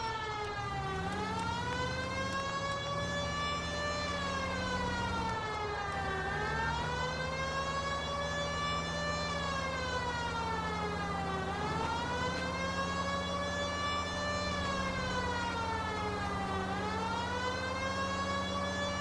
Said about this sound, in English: police siren you're hearing